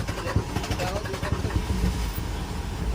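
Mitsubishi 4M50 diesel engine with hard starting, cranking in a dense, rough, rhythmic churn close by, with a voice speaking over it.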